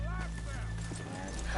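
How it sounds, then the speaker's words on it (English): Horses clip-clop at a steady walking pace in the Red Dead Redemption 2 video game, close and clear, with a brief whinny, under continuous voices talking. "let's leave the horses here off the main drag."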